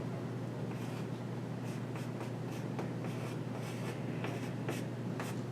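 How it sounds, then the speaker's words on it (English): A pen scratches across paper while working through a compound interest calculation, giving a close run of short, uneven strokes over a steady low background hum. "I'm going to write it down"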